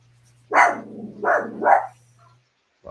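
A dog barks three times in quick succession, close and fairly loud, over a faint steady hum, with silence after.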